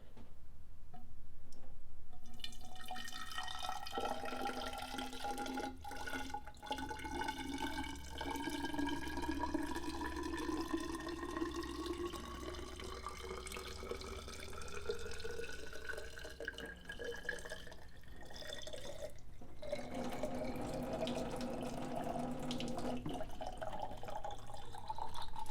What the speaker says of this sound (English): I'm gonna grab some coolant. This is just 50-50. And I'm gonna pour it right in